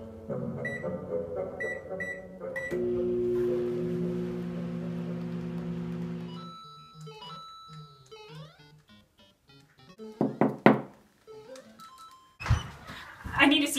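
A microwave oven hums steadily for a few seconds after a run of electronic beeps, followed by clunks and soft sounds, with faint voices near the end.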